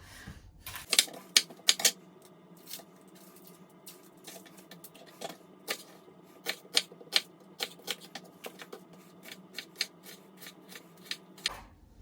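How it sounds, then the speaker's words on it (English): A knife chops a red onion on a cutting board in a kitchen, giving a steady run of sharp, close taps with short pauses and irregular spacing, and no voices. "So I'm going to chop up this onion now."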